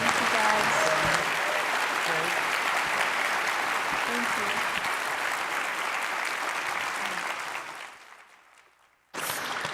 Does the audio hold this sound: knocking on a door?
no